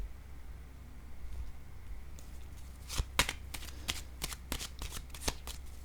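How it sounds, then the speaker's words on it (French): Playing cards being handled and laid down on a table, quiet at first, then a quick series of crisp, close card snaps and slaps over a soft background hiss. "Je vais déposer une carte ici."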